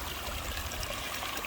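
Water trickles and splashes steadily from a pondless waterfall in a garden, a continuous soft bubbling wash with no other sounds.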